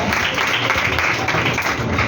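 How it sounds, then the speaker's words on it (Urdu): A sermon audience claps loudly and continuously, a steady wash of applause filling the whole short moment. "آئیے اپنے لیے زوردار تالیاں بجائیں کہ آپ برکت لوگ ہیں"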